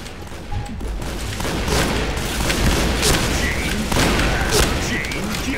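Rapid gunfire in the shooter game Point Blank, a dense sustained barrage of shots with booming low thumps running throughout, loud and close, with someone talking over it.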